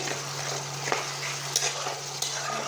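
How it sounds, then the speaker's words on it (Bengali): Onions and spices sizzle and fry in hot oil in a kadai, a soft steady hiss with a low hum beneath and a few faint stirring clicks. "পেঁয়াজগুলো আমার বেস্তা হয়ে গেছে এখন মশলাগুলো দিয়ে কষাবো"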